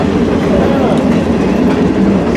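A loud, steady rolling rumble and rhythmic wheel clatter from a passenger car riding behind a Shay geared steam locomotive, number 2, on the Cass Scenic Railroad between Bald Knob and Cass, close and continuous.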